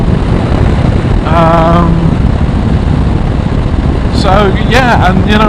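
Motorcycle engine droning steadily on an open road along Route 66 in Wild West scenery, a loud continuous rumble with wind, and someone talking over it in two bursts.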